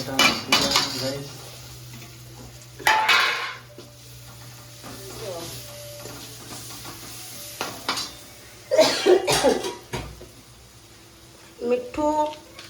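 Tomatoes tipped into a brass cooking pot and stirred for dal fry, with scattered scraping and clinking of a spoon against metal in bursts, over a low steady hum and faint sizzle.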